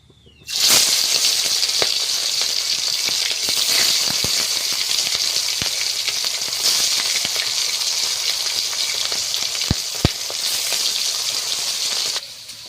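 Sea pomfret fish frying in a hot pan: a loud, steady, close sizzle kicks in sharply and hisses continuously, flecked with occasional small pops, with no talking.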